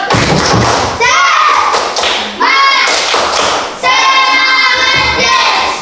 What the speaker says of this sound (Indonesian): Supaya tambah semangat lagi, tepuk semangat